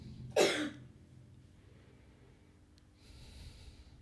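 A single sharp cough near the start during a Buddhist sermon, close and fairly loud, followed by quiet breathing and soft room noise.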